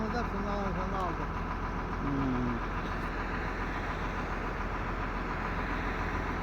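A YTO-1404 140-horsepower tractor engine idling outdoors, a steady low rumbling drone throughout, with a voice talking briefly over it at the start.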